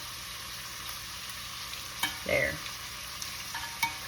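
Shrimp sear in a hot pan with a steady, soft sizzle, joined by a few brief scraping stirs of a utensil against the pan, while someone briefly speaks.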